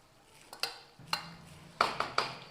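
A metal spoon stirs washed rice into boiling water in a cooking pot for a Karnataka-style masala rice dish, giving a few sharp, quiet clinks and scrapes against the pot amid soft bubbling.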